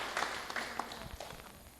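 A church congregation claps in praise, a brief, fairly faint spatter of applause that fades out over about two seconds.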